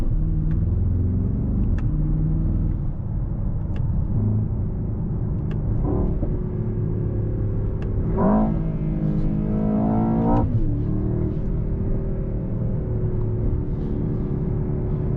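A 2024 Mercedes-AMG S63 sedan with an 800 hp V8 rumbles steadily from inside the cabin, then rises in a couple of sharp revving pulls around the middle before settling back to a deep cruising drone.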